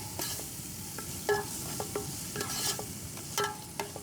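Ginger garlic paste sautés in a pan with a steady background sizzle, broken by sharp scrapes and clinks of a spoon stirring against the metal.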